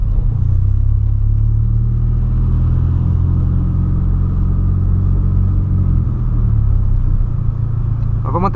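A Volkswagen Polo's engine gives a loud, close, steady rumble from inside the car, its low tone holding through the run and shifting slightly near the end.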